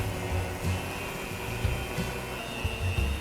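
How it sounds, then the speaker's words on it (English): Soft room-temperature butter being beaten in a bowl by an electric mixer set to medium-high for cookie dough, heard up close as a steady motor whine with rhythmic thumps from the beaters and no speech. "we're going to set our mixer of medium high"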